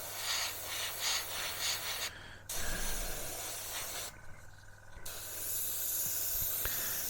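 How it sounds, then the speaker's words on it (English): An airbrush with a 0.5mm needle and nozzle sprays paint onto a scale-model test piece, giving soft hissing bursts broken by brief pauses, close and fairly quiet. "this is our test piece now to see how this airbrush is working"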